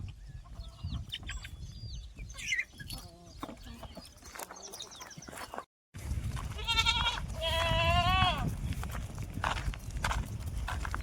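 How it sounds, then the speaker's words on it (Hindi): Desi goats on an Indian farm being taken out to graze, with several bleats standing out near the middle alongside chickens and general farmyard bustle, close by and fairly loud. "ये जो हमारी बकरियाँ है इनको हम अपने खेत में चराने को ले जा रहे हैं"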